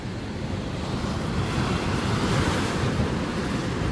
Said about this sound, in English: That wave hit the pier and it flew.